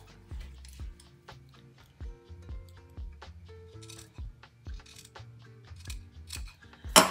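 Scissors trim paper edges for a shabby-style mini junk journal, producing a quick, repeated series of close crisp snips in a steady rhythm, with faint background music.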